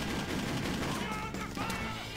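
Gunfire in the open-world action game Just Cause, a dense run of shots with a voice talking over it throughout, loud and continuous for a couple of seconds.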